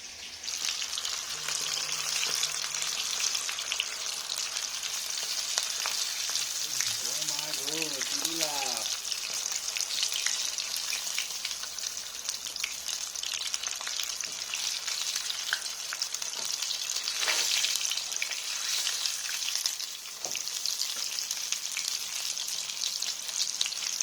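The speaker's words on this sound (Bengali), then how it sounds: "আমাদের চিকেন ভাজা চলতেছে।" Chicken fries in a pan with a steady crackling sizzle throughout, joined briefly by a short tonal chirp and a few soft clinks.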